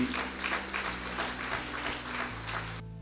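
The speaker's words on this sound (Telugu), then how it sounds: "నమ్మితే మాత్రమే చప్పట్లు కొట్టండి" Congregation at a Telugu Christian church service breaks into rhythmic clapping during the sermon, a steady run of sharp claps with sustained tones humming underneath, ending abruptly near the close.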